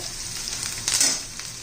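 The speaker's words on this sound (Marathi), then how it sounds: "इतपत कांदा आपल्याला परतून घ्यायचा आहे" Onion sautés in a pan for a chana masala, a steady close sizzle and crackle with a brief louder hiss as it is stirred.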